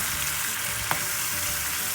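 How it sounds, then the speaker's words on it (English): Chicken tikka masala with tomatoes fries on a high flame, a steady close-up roar of sizzling with one brief sharp spatter or stir click near the middle; no talking. "Now you can see it's getting cooked on high flame."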